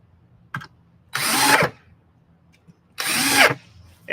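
A power drill drives screws into the wood of a raised garden box in two loud whirring bursts of about half a second each, with a short click before the first and quiet handling sounds between.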